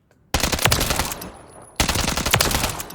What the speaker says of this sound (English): Shooting 45 ACP.